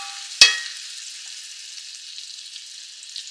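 A sharp clack as a cube steak is dropped or flipped in a hot pan, followed by a steady, moderate sizzle that continues evenly, with no voices.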